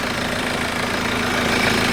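A car engine idles in a steady, close, low rumble with an even mechanical throb throughout, and no voices over it.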